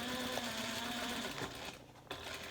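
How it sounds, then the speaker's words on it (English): A sewing machine stitches a fabric seam, running with a steady, fast mechanical whir and rattle that drops out briefly near the end before resuming, close and continuous without any talking. "I'm gonna sew it again 2 times more"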